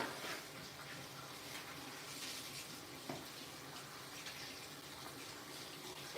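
Tap water runs steadily into a kitchen sink for washing while pickled red onions are prepared, a continuous broadband splashing rush at moderate level with no talk.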